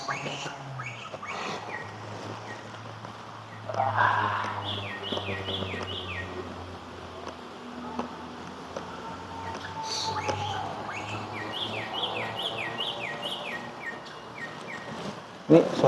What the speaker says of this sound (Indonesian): Ini suara burungnya kenceng banget.